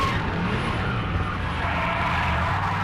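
A drift car slides around a hairpin at Teesside, its tyres skidding and squealing in one loud, continuous howl as the engine drones steadily beneath it, with no voices.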